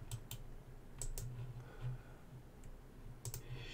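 Quiet clicking of a computer keyboard, a few scattered keystrokes and short bursts of typing with pauses between, faint and close with no voices.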